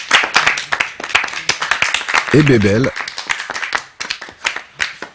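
Clapping from a small group in a film scene, sharp claps scattered across a few seconds while people talk over them, with a brief sung or hummed voice in the middle.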